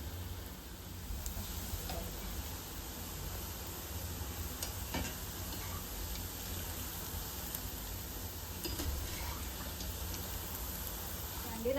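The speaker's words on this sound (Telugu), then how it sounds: "ఇవి మనము గోల్డెన్ బ్రౌన్ కన్నా ఇంకొంచెం డార్క్గానే వేయించుకోవాలి" Gulab jamun dough balls deep-frying in hot oil to a dark brown, with a steady broadband sizzle running throughout, a few faint clicks and stirring sounds, and no speech.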